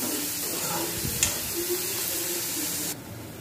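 Onion, chilli and garlic frying in oil in a pan for a besan bhindi dish, giving a steady soft sizzle and hiss throughout, close and moderately loud, with a brief clink near the middle and the sizzle dropping slightly at the end.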